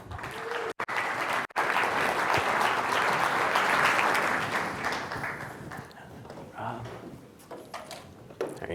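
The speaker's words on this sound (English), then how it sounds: "Let's give a great round of applause to all of our participants and our moderator, COO of C2 Financial, Brian Kent." Sustained applause from an audience fills the room, swelling and then gradually thinning out as a voice begins speaking near the end.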